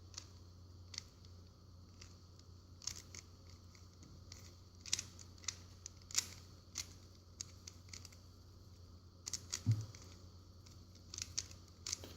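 Plastic clicks and ticks of a Rubik's cube being scrambled by hand, a sparse, irregular run of light snaps near and fairly quiet against a steady low hum, with a brief louder cluster partway through.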